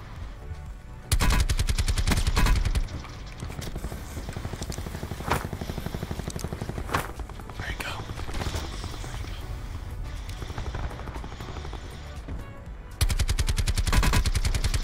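Gunfire in a battle royale video game: rapid automatic bursts crackle loudly at the start and end, with scattered single shots and steady game noise between.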